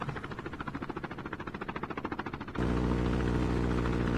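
A Call of Duty Mobile helicopter's rotor chops in a steady, pulsing beat, then gives way to a louder, continuous engine roar that fills the rest of the clip.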